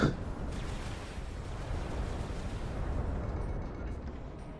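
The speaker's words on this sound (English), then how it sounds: "And my cannon's been destroyed too." A mech's cannon blown apart in the VR combat game Vox Machinae, a loud booming blast at the start that trails into a long rumbling, crackling roar.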